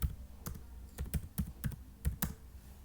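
Keys clacking on a computer keyboard as a SQL table command is typed, with about ten separate keystrokes coming at an uneven pace, close and moderately loud, and no voices.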